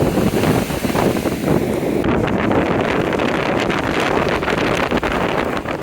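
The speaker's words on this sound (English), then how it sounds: "It's a little windy!" Strong wind buffets the microphone in a steady, loud roar at an Australian beach, with waves faintly washing underneath; no one speaks.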